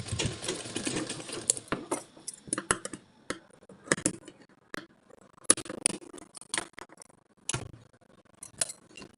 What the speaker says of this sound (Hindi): इस पे सिलाई चला दूंगी